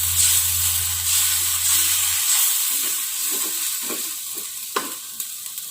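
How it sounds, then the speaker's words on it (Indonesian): Water poured into a simmering pan of smoked fish coconut curry seasoned with galangal, lime leaves and bay leaves, giving a steady hiss and sizzle with a few soft stirring clinks toward the end. "Tambahkan air sedikit."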